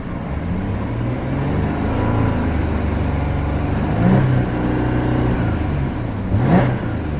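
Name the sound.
Audi A8L 3.0T V6 engine revving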